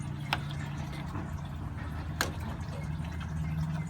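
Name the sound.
coolant draining from Jeep Wrangler radiator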